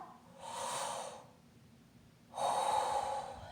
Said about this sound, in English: And then when they inhale